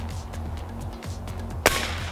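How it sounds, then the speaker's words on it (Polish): A single sharp air rifle shot cracks out close by against a steady background hum, with nothing else notable around it. "Pamiętaj, żeby odbezpieczyć wiatrówkę przed oddaniem pierwszego strzału."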